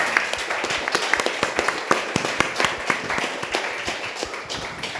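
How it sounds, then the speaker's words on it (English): An audience at a spoken-word event applauds with sharp, distinct hand claps in a steady patter for several seconds, moderately loud and close, with no talking over it. "I just want to give another round of applause to all of the amazing writers."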